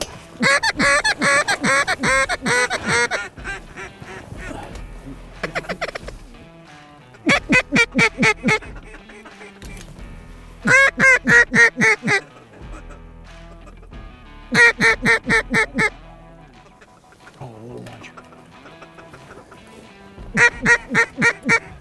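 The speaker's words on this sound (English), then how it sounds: "we got more birds coming" Loud bursts of mallard duck quacking recur in clusters, close by and repetitive, separated by quieter gaps with soft rustling and faint voices, at a warm-water creek in Nebraska during a duck hunt.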